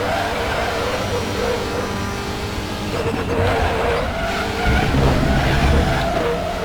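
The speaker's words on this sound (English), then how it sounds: "Braked a bit too hard there." Tires squeal and skid under hard braking in RaceRoom during a WTCR race at the Hungaroring, loud and close over the steady roar of the car's engine.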